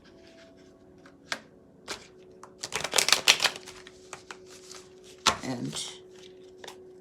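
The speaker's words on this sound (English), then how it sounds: "let's shuffle the cards and see what the tarot can tell us about Mike Flynn" Tarot cards being shuffled, a series of crisp riffling and tapping bursts clustered in the middle, with brief speech at the start.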